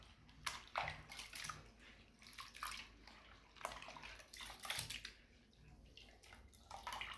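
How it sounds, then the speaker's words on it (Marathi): Mixed lentils being washed in water by hand, quiet close sloshing and swishing in irregular bursts with drips and trickles between them. "अगदी आपल्याला स्वच्छ धुवून डाळी घ्यायच्या."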